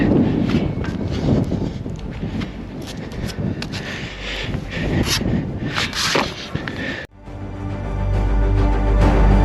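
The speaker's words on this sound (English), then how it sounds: "It's very windy and I don't like climbing in the wind" Strong gusty wind at an abandoned historical mining town in New Zealand, roaring and buffeting the microphone with heavy low rumble, briefly dropping before surging back loud.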